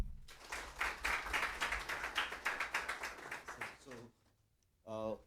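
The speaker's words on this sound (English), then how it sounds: "A warm round of applause," An audience at an academic writing workshop claps for a visiting professor. There are about four seconds of dense, steady clapping, then it stops and a voice speaks briefly.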